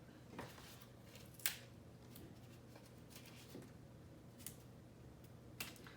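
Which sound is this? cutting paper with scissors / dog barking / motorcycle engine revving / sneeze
cutting paper with scissors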